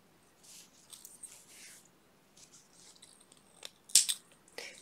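Scissors snip through crochet yarn with a single crisp, close cut near the end, after some soft handling rustles in a quiet room.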